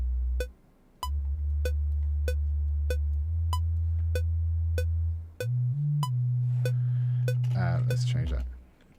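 A looping synthesizer tone in Cubase with glide applied: regular sharp clicky pulses tick over a low sustained bass note that slides upward in pitch near the end, with brief noisy burst before fading.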